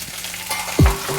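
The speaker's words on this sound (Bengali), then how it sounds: "আদাটা ভাজা হয়ে গেছে" Ginger and a pinch of turmeric fry in hot oil for a Bengali shukto, giving a short steady sizzle broken by one louder, deeper whoosh partway through.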